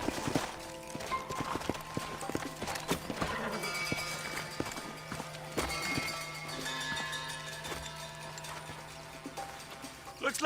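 Horse hooves clip-clop in Red Dead Redemption as riders slow down, with irregular, close thuds under a busy bed of game music and ambience, plus brief voices.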